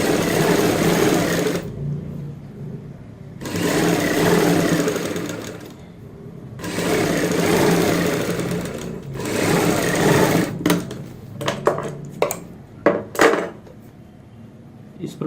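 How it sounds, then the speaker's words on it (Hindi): A sewing machine stitching a garment sleeve, running in loud mechanical bursts with short pauses in between, then giving way to a few brief clicks and handling sounds. "यहाँ पे ऊपर से एक सिलाई लगाएंगे।"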